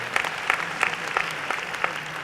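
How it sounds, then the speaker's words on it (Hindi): An audience at a Hindi poetry recital claps steadily, a dense patter of many hands with evenly spaced louder bursts throughout and no speech. "मेरे बिना कहे आपने जो तालियां बजाई हैं"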